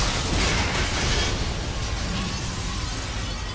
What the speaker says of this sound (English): Right on cue with the explosion.